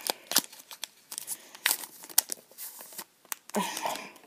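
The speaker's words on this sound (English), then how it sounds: "Again with the scissors." Close, crisp scissor snips and crinkling of stiff card packaging on a Pokémon trading card Elite Trainer Box, irregular bursts of cutting and rustling with a brief pause near the end.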